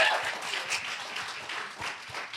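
A convention symposium audience applauds with steady, dense clapping at moderate distance, a few louder individual claps standing out.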